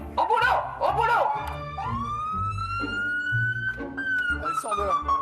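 Small loudspeaker fitted on a van blaring a toy siren with a rising and wavering tone, loud and close, with a person talking over and between the wails.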